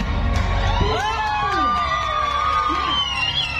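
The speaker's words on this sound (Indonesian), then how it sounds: "Kita berikan tepuk tangan." A crowd cheers and whoops at a parish anniversary prize ceremony, loud and close, with children's shouts and rising excited calls. Voices call out over the noise.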